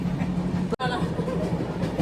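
Rumbling rhythmic clatter of a train moving along rails, steady throughout with a brief sharp break near the start.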